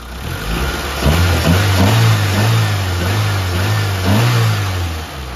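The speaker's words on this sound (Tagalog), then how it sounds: "Pero ang ganda ng response ng makina mga padi." A freshly rebuilt Mitsubishi Lancer 4G15 engine revs up and settles back several times in close, smooth, steady throttle blips.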